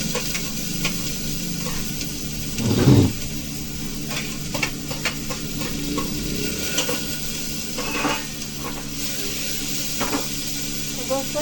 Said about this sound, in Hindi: और अब डालते इसमें प्याज। प्याज डालते हैं दोस्तों।